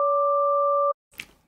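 Two steady sine tones from an Xfer Serum synth, set on unrelated high harmonics that are not tuned together, sound as a clean sustained dual pitch for about a second and then cut off sharply. A brief faint noise follows.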